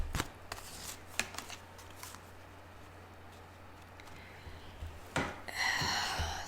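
Tarot cards shuffled by hand in a few short riffling bursts, with a louder, denser flurry of card shuffling near the end.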